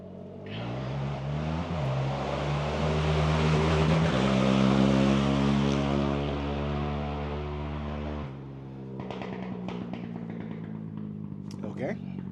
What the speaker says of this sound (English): this is like a OHV area, so there's like people riding through all day